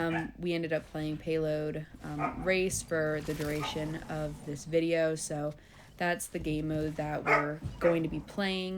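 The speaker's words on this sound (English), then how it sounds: "If you can hear my dogs and then my cats in the background" Pet dogs bark and yip in the background of a home gaming session, short sharp barks scattered under nearly continuous close talking throughout.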